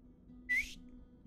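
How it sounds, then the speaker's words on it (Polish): A single short whistle from a person, a brief rising tone lasting about a quarter second, faint and alone over a quiet low hum. "Trochę chyba wyszło. Gwizd."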